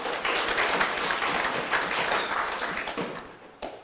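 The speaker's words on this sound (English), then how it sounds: "give yourself a good big applause" Sustained applause from an audience at a Namibian defence ministry address, steady dense clapping filling the whole stretch before tapering near the end.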